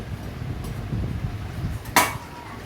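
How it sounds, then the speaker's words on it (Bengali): A metal lid lifted off a cooking pan of simmering meat gives one short, bright clank near the end, over a low background hum. "দেখুন আবার ঢাকনা খুলে দেখছি"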